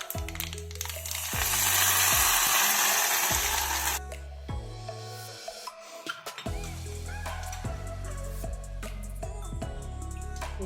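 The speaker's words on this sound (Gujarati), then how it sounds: "તો ચાલો આપણે વઘાર બેટરમાં એડ કરીએ" Hot tempering poured into rava idli batter, a loud sharp sizzle that hisses for a couple of seconds then fades, followed by spoon stirring and clinks against the bowl, close up.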